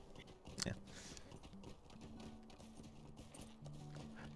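Faint clip-clop of horse hooves plodding along in the video game Lord of the Rings Online, with a light mechanical game-like background hum, one sharper knock early on.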